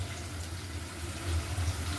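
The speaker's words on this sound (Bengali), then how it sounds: "সবজিগুলা কাটটা পরিষ্কার করে নিচ্ছি বিয়াস" Tap water runs steadily into a sink while freshly cut winter vegetables are rinsed in a home kitchen, a soft continuous low rush with slight swells, alone without talk.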